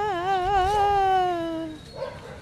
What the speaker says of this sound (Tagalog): May asang nakagala.